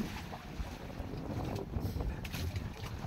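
Choppy sea waves slosh and slap around a small fishing boat, a low rumbling wash with wind buffeting the microphone, fairly quiet and steady, with no clear speech.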